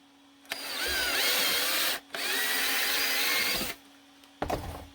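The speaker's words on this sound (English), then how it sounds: "I just ream the inside of the hole" A power drill reams the inside of a hole, whining in two sustained close bursts of about a second and a half each with a short gap between, followed by a brief rattling handling noise.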